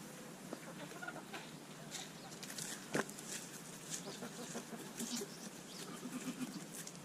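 A small backyard flock of free-roaming chickens clucks and chatters at close range, soft scattered calls with a brief sharper squawk, over a faint outdoor background and with no talk.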